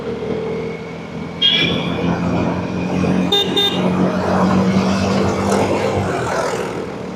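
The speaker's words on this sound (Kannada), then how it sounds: "ಈ ರೋಡ್ ಫುಲ್ಲು ಟ್ರಾಫಿಕ್ ಆಗುತ್ತೆ ಗುರು" Busy city road traffic after rain, with a steady motor rumble, a couple of short car horn toots and passing vehicles, heard from a motorcycle close by.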